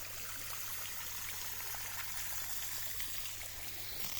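Clean water flows steadily from a newly drilled well, a faint continuous trickling stream under a low steady hum.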